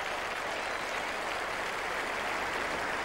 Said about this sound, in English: Ponting will receive a standing ovation here from this capacity crowd